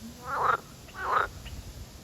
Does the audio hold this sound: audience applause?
no